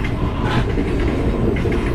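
Ciremai passenger train running on an Indonesian railway line, a steady close rumble of wheels and carriages with faint clickety-clack rhythm throughout, no voices.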